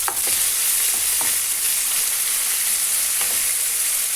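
Tender beef stir-fried briefly in a hot pan, a constant loud sizzle with occasional soft scrapes and taps of a spatula, no voices.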